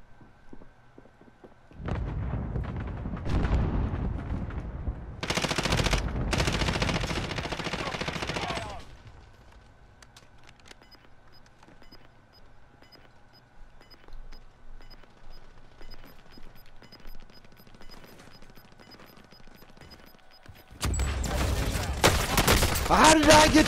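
Bursts of game gunfire in a Rebirth match, loud clusters of shots early on, then a quieter stretch of scattered distant fire before a sharp loud burst near the end.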